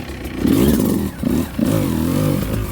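A 2025 Beta 200 Race Edition two-stroke dirt bike with an RK head pulls in first gear on dry ground, its engine revving loudly in two rising bursts separated by a brief dip, close and alone.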